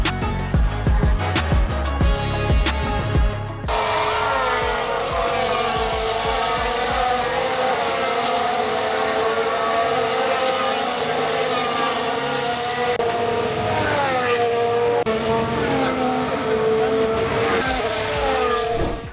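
Formula 1 cars on the formation lap at the Australian Grand Prix, a loud sustained high-pitched engine roar with rising and falling revs as cars pass close, continuous throughout.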